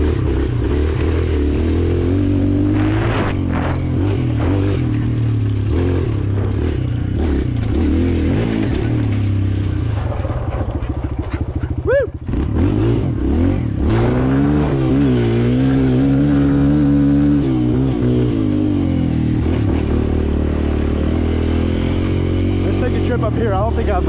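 A Kawasaki KLX 140L dirt bike is ridden hard on a trail, its engine revving up and down in loud, close surges, with voices talking over the engine noise.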